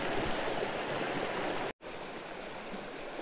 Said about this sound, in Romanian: aici avem o dimensiune mai mare a râului, adică un volum mai mare de apă